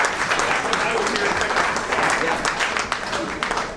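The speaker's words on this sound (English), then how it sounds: "Round of applause." Steady applause from the audience at a 25th anniversary party, a dense wash of many hands clapping at even loudness throughout, with a voice faintly audible beneath it.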